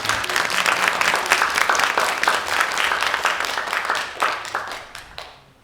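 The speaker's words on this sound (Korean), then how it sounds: "박수 한번 주세요." Audience applause fills a humanities lecture hall, dense and steady clapping from a sizeable crowd that holds strong for several seconds, then thins out and fades near the end.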